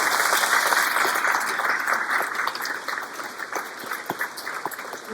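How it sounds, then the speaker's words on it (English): An audience at a city State of the City address gives a round of applause, steady dense clapping from a sizable crowd that thins gradually toward the end. "Can we get a round of applause for Dave for the work that he's doing?"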